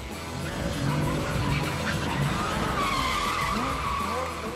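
Lamborghini sports car skidding with tires squealing, a loud sustained screech with rising and falling pitch over an engine roar, with a voice briefly under it.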